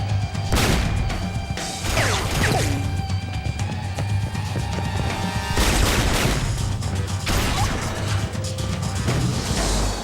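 Gunshots in the video game True Crime NYC ring out as several sharp loud bursts spread irregularly across a noisy, rumbling backdrop.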